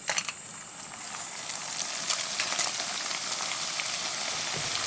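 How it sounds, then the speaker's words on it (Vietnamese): Dried leftover rice hitting hot oil in a pan, a loud steady crackling sizzle with dense popping bubbles that keeps up throughout, no voices. "Đợi dầu nóng già rồi mình bỏ cơm vào chiên nè."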